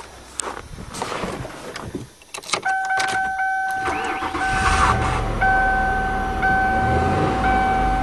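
A repaired 1997 Lincoln Continental engine idles with a steady running hum, following clattering handling noises and a brief quieter gap, while a high electronic tone sounds intermittently over it.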